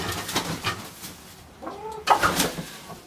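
Chickens cluck and coo inside a chicken coop, several close, soft calls scattered irregularly, with scraping and rustling from coop cleaning around them and no talk.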